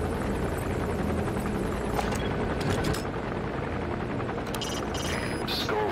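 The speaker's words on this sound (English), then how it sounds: "Skullface's chopper is there." A video-game helicopter's steady, loud rotor drone fills the whole stretch without a break, with a few sharp crackles on top; no one speaks.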